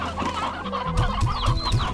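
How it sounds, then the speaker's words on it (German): Chickens in the video game Slime Rancher cluck in a quick burst of clucks, up close and loud, with no voices over them. "So, dann die Hühnchen."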